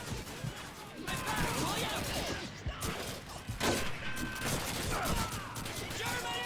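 Gunfire crackles in the World War II shooter Call of Duty 2, with scattered sharp shots and distant battle noise running through the scene while someone talks over it.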